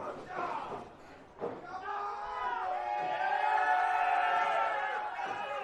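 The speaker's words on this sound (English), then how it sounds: "Listen to this crowd here tonight." Wrestling crowd at an indoor pro wrestling event roaring and cheering in a sustained, building wave, with a couple of loud slams and thuds early on and shouting voices inside the din.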